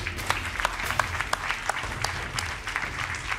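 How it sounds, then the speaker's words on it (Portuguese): A game show studio audience gives a short, steady round of applause, dense clapping at moderate level with no voices over it. "Um aplauso para eles."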